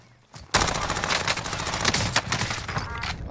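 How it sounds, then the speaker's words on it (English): Sustained automatic gunfire from an enemy player in Call of Duty Warzone (Verdansk Resurgence) erupts suddenly after a brief quiet moment and continues as a loud, dense rattling burst. "Oh, there's a guy shooting me."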